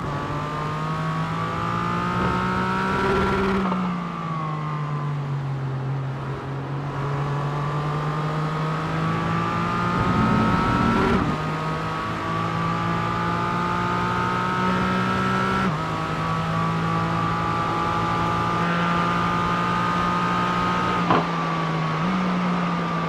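GT4 race cars battle on a circuit with a hairpin. A loud, close engine note climbs through the gears, drops sharply on braking and downshifts, then revs hard again, with several cars blending in a sustained howl.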